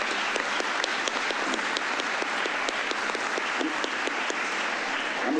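Steady applause from a crowd at a retirement ceremony, continuous and even throughout, many hands clapping at once, fairly loud and unbroken.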